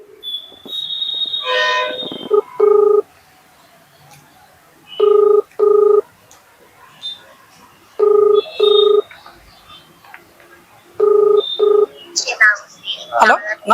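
A phone line rings in repeated double bursts with pauses between, after a brief tone sequence, with voices talking nearby.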